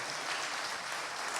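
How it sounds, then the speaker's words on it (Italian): An audience at a televised folk dance and culture show applauds to welcome performers onto the stage: a steady, faint, even wash of many hands clapping, without pauses. "voi li dovrete applaudire e accogliere con un applauso."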